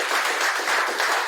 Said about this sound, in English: Please one more time, a round of applause for our excellent panelists and our moderator